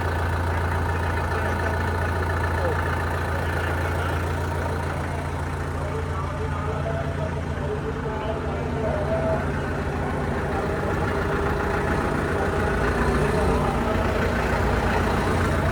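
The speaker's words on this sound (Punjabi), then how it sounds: "ਵਧੀਆ ਬਣਿਆ ਟਰੈਕਟਰ ਇਹ ਵੀ" Tractor engine idling close by, a steady low diesel rumble throughout with a constant throb and no change in pace.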